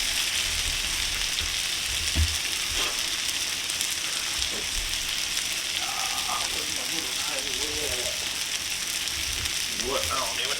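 Eggs sizzle and crackle steadily in a pan, a continuous hiss with small pops, close and fairly loud, while a few faint voice fragments drift in partway through.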